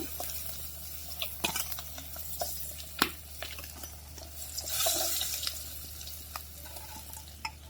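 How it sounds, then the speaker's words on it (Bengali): Tilapia fish pieces frying in hot oil in a pan, a steady sizzle with occasional stirring and utensil clinks against the pot, close and moderately loud with no talking. "বাকি মাছগুলো এইভাবে বেজে নিব"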